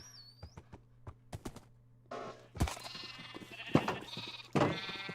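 Sheep at a sheep farm in a video game bleat several times, short clear calls rising over sparse clicks and a quiet droning background, with no talk.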